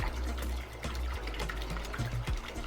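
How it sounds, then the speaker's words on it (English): A gallon of cold water is poured into a barbecue brine, giving a continuous close splashing gush with small gurgles and knocks, and no talk. "Now what you want to do is add 1 gallon of cold water."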